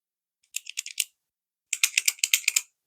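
A Zebra F-701 stainless steel retractable ballpoint pen clicks rapidly and crisply up close, in a short burst of about six clicks, a pause, then a longer run of about ten clicks.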